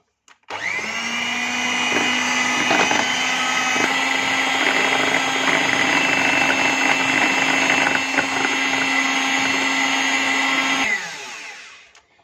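An electric hand mixer beats cupcake batter with flour and baking powder, a loud steady motor whine starting abruptly, holding constant for about ten seconds, then winding down and stopping, with no talking.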